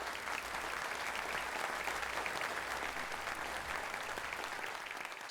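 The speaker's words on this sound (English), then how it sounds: "Let's give a round of applause for Stu for coming to Alabama." An audience at a medical talk on multiple sclerosis applauds the speaker, a dense, steady wash of clapping from many hands, even in loudness across the whole stretch.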